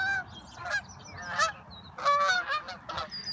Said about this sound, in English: But Canadian geese.